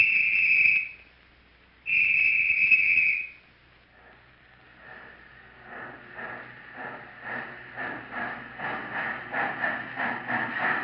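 A train whistle sounds twice in a 1938 radio broadcast, two loud sharp blasts, and then a train rumbles past with a rhythmic clatter of wheels that builds steadily.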